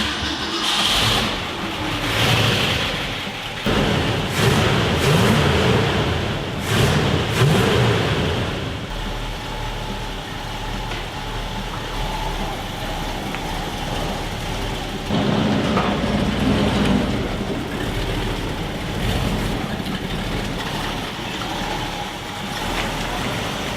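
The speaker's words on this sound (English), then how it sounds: "Let's jump straight into it, take it for a little test drive and see what happens." A 1968 Ford F250 junkyard truck on a test drive, its engine droning and surging through revs with bursts of acceleration and road rumble, fairly loud and continuous throughout.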